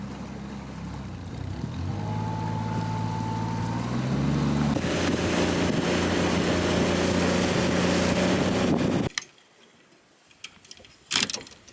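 A motorboat engine drones steadily over rushing water and wind on Lake Oahe, then cuts off abruptly, leaving near-quiet with a few brief knocks.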